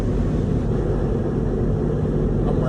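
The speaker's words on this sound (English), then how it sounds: "I don't know if y'all can hear it, the engine, or y'all can hear the wind, because I got my windows rolled down" A truck engine drones steadily at night with the windows rolled down, wind rushing through the cab in a continuous, loud low rumble that never lets up.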